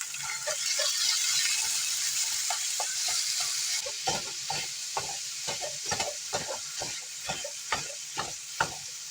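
Food cooks over high heat in a pan while whole grain pasta is being prepared. A constant bright sizzle is broken by frequent sharp clicks and scrapes of stirring, close and fairly loud, and nobody speaks.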